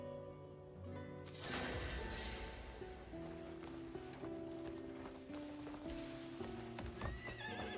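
A horse neighs loudly, then its hooves clip-clop at a steady walk while bright synthetic chimes and tones play over it.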